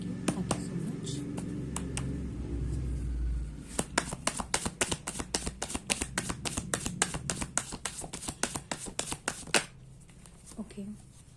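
Tarot cards are shuffled for a reading: first a soft riffling rustle, then a long run of quick, sharp snapping riffles close up. Faint background noise sits under it, with no talking.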